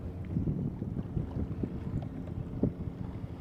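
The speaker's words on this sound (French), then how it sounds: "on est dans un spot où il y a beaucoup de vent" Wind at the seaside buffets the microphone in a steady low rumble with gusty surges, loud and close, with no voices.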